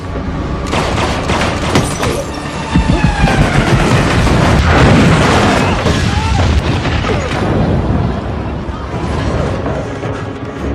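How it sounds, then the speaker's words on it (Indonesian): Loud, dense explosion from a film scene after a helicopter pilot is shot, a sustained rumbling blast with crackling debris and heavy low-end roar filling the whole stretch, mixed with dramatic soundtrack. "Begitu Bota berusaha bawa Zhao kabur, Ajani langsung nembakin pilotnya dan boom"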